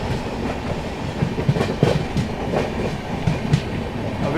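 Patna Tejas Rajdhani Express 12309 rushing past at full speed, a steady broadband roar of rolling wagons with rhythmic clickety-clack wheel beats over rail joints, close and loud throughout.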